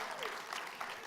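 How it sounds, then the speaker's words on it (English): Audience applause at a startup-growth conference talk, a dense, steady patter of many hands clapping at moderate volume throughout, with no voices standing out. "I mean, applause for Sriram."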